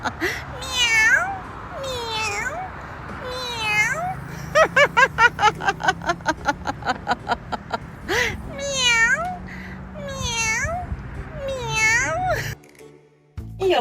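A voice imitates a cat with a run of rising, wavering meows, broken midway by a rapid series of laugh-like bursts before more meowing.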